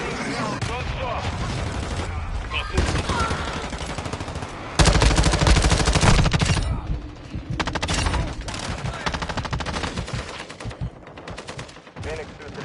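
Gunfire in Call of Duty: Modern Warfare 2, with loud, dense automatic bursts and volleys that keep coming, the heaviest stretch in the middle. Voices call out over the shooting.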